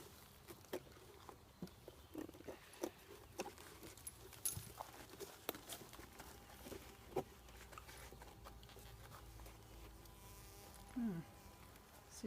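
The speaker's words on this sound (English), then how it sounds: "See a few bees." Honeybees buzz faintly inside a wooden observation hive being taken apart, a low steady hum with scattered clicks and knocks as it is handled, and brief voices nearby.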